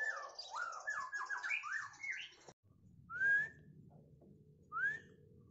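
Male white-rumped shama (murai batu) songbird from Medan with mutated spotted plumage, giving a rapid run of varied whistled phrases, then after a brief gap two separate loud upward whistles over a low background hum.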